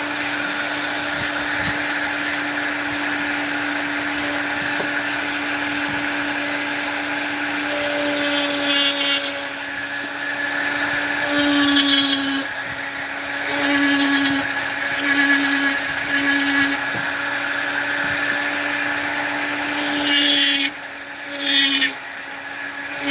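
A flex shaft rotary tool fitted with fine burrs carves a wood spirit face, giving off a continuous high-pitched whine that rises and dips as the burr bites into the wood, with brief heavier grinding bursts near the end.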